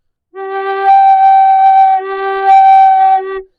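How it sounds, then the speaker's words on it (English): Native American style flute note that repeatedly leaps up an octave as a finger hole is uncovered and drops back when it is covered, a clear sustained alternating tone with no voice. "whenever I uncover the hole, it jumps up an octave"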